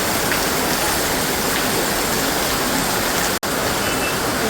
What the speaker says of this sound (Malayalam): പെരുമഴ.